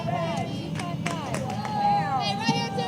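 Cheering and shouted encouragement from the Cedartown dugout at a high school girls' softball game, a steady stream of excited voices with a few sharp claps and yells close by.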